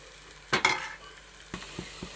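White gongura curry cooks in a pan under a low, soft sizzle, broken by a few sharp spoon clatters and scrapes against the metal.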